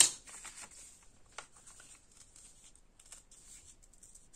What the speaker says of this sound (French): Et de la même façon, je viens délicatement déchirer